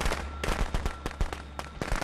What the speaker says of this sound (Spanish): Es que me está tirando petarditos.